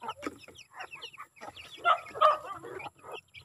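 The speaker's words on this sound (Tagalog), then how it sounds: "Magpakain muna tayo sa mga alagang manok." Domestic chickens cluck and chatter close by in a quick, busy series of short calls, with no talking.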